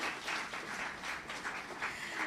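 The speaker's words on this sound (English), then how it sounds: "Round of applause for that team too." Indoor audience applause for a report launch planning team, faint, steady clapping from a room of people, lasting a couple of seconds with no talk.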